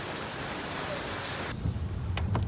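Steady rain hisses on the road to Wayanad near the mountain pass, a dense wash of noise that shifts to a heavier, rumbling patter partway through.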